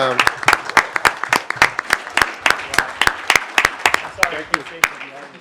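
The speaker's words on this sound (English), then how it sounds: "Can we give John a round of applause" Audience applause for John at a Boston economy forum: sharp, distinct claps repeat quickly and loudly for several seconds, a voice speaking over them.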